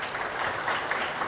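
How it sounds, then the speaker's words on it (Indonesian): Brief burst of steady clapping from a small audience, evenly sustained throughout. "Tepuk tangan untuk beliau."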